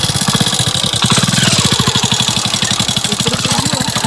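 A stalled motorcycle engine catches and runs. Its fast, even putter thumps close and loud without a break, with no voices heard over it.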